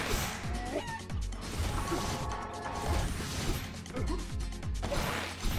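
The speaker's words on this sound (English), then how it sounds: "Definitely don't need to punch the chicken right now." Chicken being punched in Guacamelee! Super Turbo Championship Edition, heard as repeated thumps and squawky game effects over a busy, steady layer of game music and sound.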